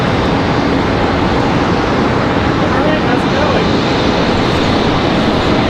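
American Airlines Airbus A319 departing Charlotte Douglas International Airport, a loud, steady broadband jet roar filling the whole stretch without letup, close and continuous.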